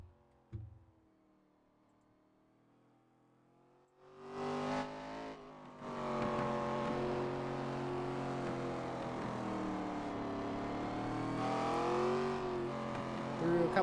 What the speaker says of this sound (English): Hear him downshifting for turn 1.